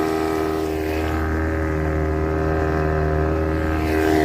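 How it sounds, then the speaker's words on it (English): A boat's main outboard motor drones steadily at low speed while maneuvering into a marina berth, a close, constant hum with a strong tonal engine note and light wind noise. "I will use my main motor to park"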